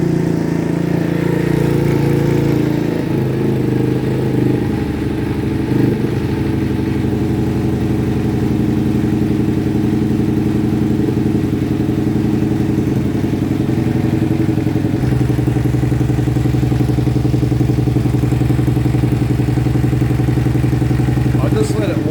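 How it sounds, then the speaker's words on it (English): A 125cc four-stroke dirt bike engine runs steadily and close up, its uneven idle sounding a bit like a two-stroke with an air leak, with a mechanical clatter throughout and a drop in engine note partway through. "It kind of sounds like a 2-stroke with an air leak. It's not, it's a 4-stroke."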